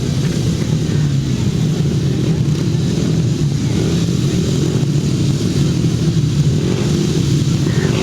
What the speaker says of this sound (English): You hear the revs go up, the start marshals move away, and they cleanly get away.